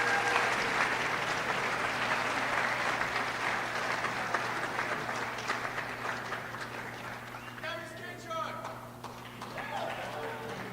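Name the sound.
audience applause for teachers at school assembly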